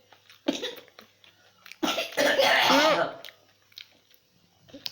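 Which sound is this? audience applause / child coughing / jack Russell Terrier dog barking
child coughing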